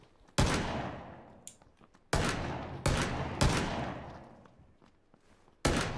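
Loud, sharp gunshots from the video game PUBG crack out in five separate bursts, each fading into a short echoing tail, with a faint thud in between.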